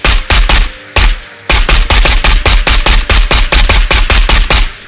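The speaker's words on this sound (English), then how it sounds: "A bunch of shots on him." Sustained gunfire in the Ghost of Tabor video game, loud and close: rapid automatic bursts of sharp shots in a steady rhythm, with one brief pause, and no talk over it.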